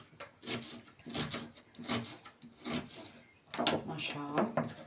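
A knife cuts through cabbage on a wooden board in rhythmic, close, crunchy strokes, about six or seven slicing passes with a brief pause, while someone talks quietly.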